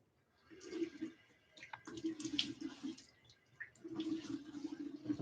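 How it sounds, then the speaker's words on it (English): Tap water running into a sink during a live wet shave, a faint splashing trickle in irregular bursts with brief pauses and small clicks, quiet and close. "A little bit of water on."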